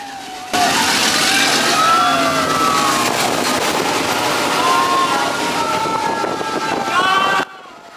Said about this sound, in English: And here comes the much awaited train.